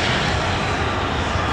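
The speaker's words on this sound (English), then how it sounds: "It's a small plane." A small plane passes overhead near LAX, its engine a steady, loud drone filling the whole moment with no voices.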